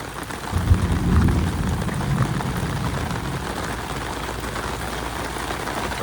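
Steady rain falling in a stormy outdoor setting, a dense continuous hiss with a low rumbling swell near the start, loud and without voices.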